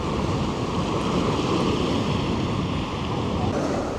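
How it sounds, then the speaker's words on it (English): Strong wind roars steadily and loudly across the microphone aboard a sailing boat in Glacier Alley, Tierra del Fuego, with rushing water and surf mixed in underneath. "So definitely got some wind today."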